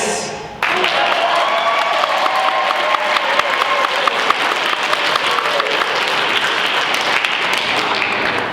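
Audience applause and cheering at a Tuba Christmas brass concert in Duluth, Minnesota, a dense, steady burst of clapping with scattered whoops that starts sharply after a brief lead-in and holds loud throughout.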